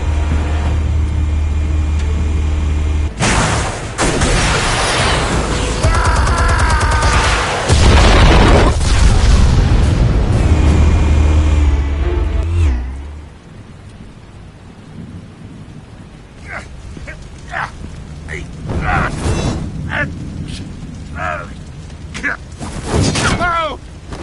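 Explosives detonate in Batman The Telltale Series with heavy, loud booms and rumbling blasts for about thirteen seconds. Quieter scattered impacts and debris follow, with no talk.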